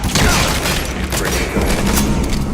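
Covering gunfire in Metal Gear Solid V: The Phantom Pain, a dense, loud burst of shots and booming blasts filling the whole moment, with voices faintly mixed in.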